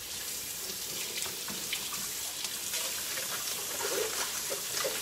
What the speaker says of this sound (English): So I always rinse off all my veggies and take off the top layer